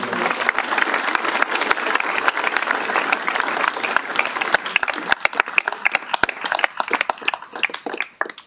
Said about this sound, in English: please give a round of applause to these people.